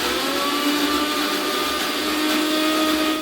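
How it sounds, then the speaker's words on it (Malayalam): A mixer grinder whirs loudly and steadily at close range while grinding coconut. The motor's whine holds without a break for the whole stretch, with no pauses between bursts. "അപ്പോഴത്തേക്ക് മിക്സി ചൂടാവും. അപ്പോൾ ഇങ്ങനെ ഗ്യാപ്പിട്ട് അടിച്ചെടുക്കാം"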